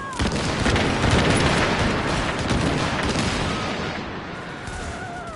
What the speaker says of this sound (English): Open fire! Gonna waste them all! Focus your fire!